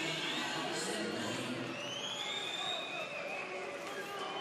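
Ice hockey arena crowd at a HV 71 versus Skelleftea game reacting unhappily to an icing call, a dense steady roar of many voices with whistling and shouts throughout, loud and sustained.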